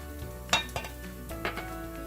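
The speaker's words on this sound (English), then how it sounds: "I use that to mash up the rice" Soft scraping and a few light clinks of a utensil working cooked rice in a bowl while making seasoned yogurt rice, quiet and close with no talking.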